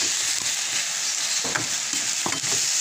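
French beans sauté in a pan with a loud, continuous hissing sizzle and a few soft stirring knocks close by.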